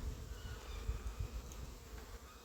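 Honeybees buzzing around a hive frame during queen rearing, a steady close drone with low pulsing hum from many wings and no voices.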